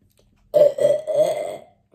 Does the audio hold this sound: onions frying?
no